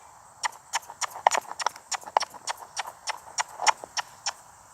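Hooves clop in an uneven, rapid rhythm, sharp distinct strikes close by as a horse moves over hard ground.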